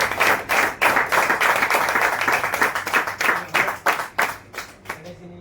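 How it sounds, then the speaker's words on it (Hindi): An audience at a network marketing seminar claps loudly in a sustained burst of rapid, dense applause that stops near the end, with a voice briefly audible underneath. "वो ताली हो जाए सर एक बार"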